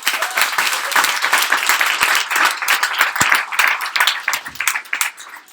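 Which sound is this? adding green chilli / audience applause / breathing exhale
audience applause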